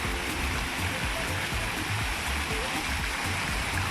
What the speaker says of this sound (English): The main fountain in the center, and the design inside the fountains.